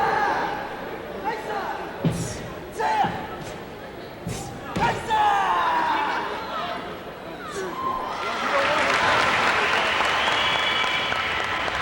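A crowd applauds and cheers at a martial arts forms competition in an arena, with loud sustained clapping swelling through the second half after a commentator talks over scattered claps and thuds.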